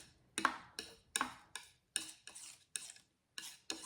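Bristle brush working alizarin crimson into yellow ochre paint on a palette, a series of short scrubbing strokes at an even rhythm, close and fairly quiet, with no voices.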